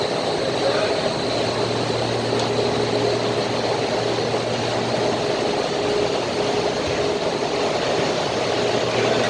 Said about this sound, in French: le aspirateur, il a démarré automatiquement avec le grand moteur